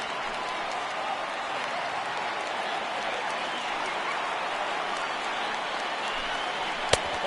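A baseball crowd at an MLB video game ballpark applauding steadily in a dense, even wash of clapping and cheering, with a sharp click near the end.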